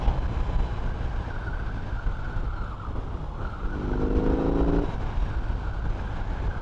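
A BMW R18 First Edition motorcycle engine runs steadily throughout, with a brief rise in revs partway through, heard close up over constant road and wind rumble.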